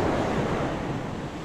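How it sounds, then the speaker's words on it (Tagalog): Strong ocean waves on a Pangasinan beach, a loud continuous roar of surf with wind buffeting the microphone, no talking. "Malakas yung alon dito."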